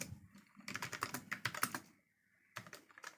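Rapid clatter of keys on a computer keyboard while code is typed, close and fairly quiet, in dense bursts with a short pause near the end before typing resumes.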